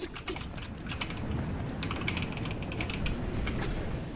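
Rapid, steady typing on a GK61 mechanical keyboard with yellow switches, a dense continuous stream of close, crisp key clacks with no voice.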